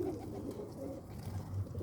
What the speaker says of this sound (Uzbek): Mana qushlar.